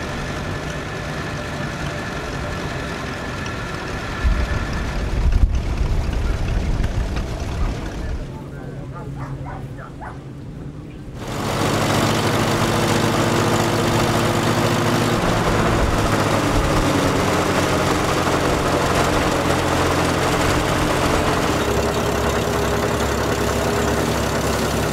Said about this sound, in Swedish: Efter en riktig störtskur kommer de krosande traktorerna fram till Karl-Erik Nilsson på Åkesholms gård.